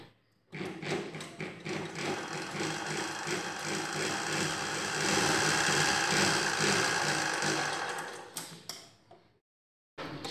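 A sewing machine stitches a pot neck blouse, whirring in a steady mechanical rattle that builds and holds for several seconds, loud and close, then stops abruptly. No one speaks.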